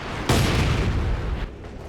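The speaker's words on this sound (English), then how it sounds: "Heavy mortar from Flap, quite late getting it" Heavy mortar firing in Company of Heroes 2, a single loud booming blast with a rumbling tail lasting over a second, heard alone without talk.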